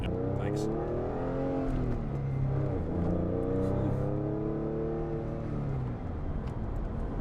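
A Porsche sports car engine with a redline around 7,000 RPM revs up loudly and close, its pitch climbing in several rising sweeps over a constant road and cabin drone.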